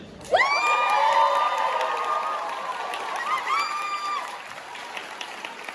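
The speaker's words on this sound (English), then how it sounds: "So, we need to do a bit of a clap and cheer on, so give me a clap and a cheer." An audience at the Off the Ground 5th birthday event bursts into clapping and cheering, loud and close, with shrill whoops and shouts riding over the applause; the noise starts suddenly, peaks early and tapers over several seconds.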